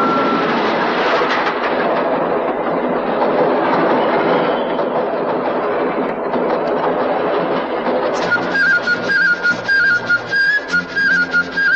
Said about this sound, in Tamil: ரயில் வருது, வேடிக்கை பாத்துட்டு போ